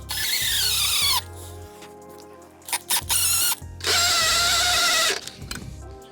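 A drill fitted with a Phillips bit drives a waxed screw while fitting a triangle dock net, whining in loud bursts with stop-start pauses, close and alone.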